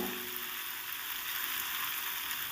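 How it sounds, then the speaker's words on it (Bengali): Potatoes, radish and other vegetables sizzle and crackle steadily in a hot pan, a close, even frying hiss with no voices. "আলুটা পুরোটা ভাজা হয়নি আর একটু ভাজা হবে"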